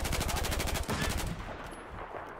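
Rapid automatic gunfire from a machine gun in the shooter game Battlefield 4, a loud rattling burst of evenly spaced shots for about a second, then fading into a quieter, rumbling tail.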